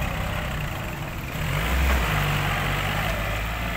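A Kubota L3608 tractor engine runs steadily close by while pushing soil on a field, a low, throaty drone that swells briefly in the middle, with no voices.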